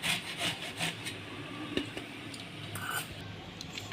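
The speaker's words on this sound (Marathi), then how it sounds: "आपण ह्या संत्रीच्या साली किसून घेतली आहे" Orange peel being grated for orange burfi, a steady scraping rasp in repeated strokes, close and moderately loud with no talk.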